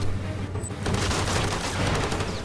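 Gunfire in the video game Far Cry 2 rattles steadily toward the player, a dense, loud stream of shots that blurs into one continuous roar after a brief opening.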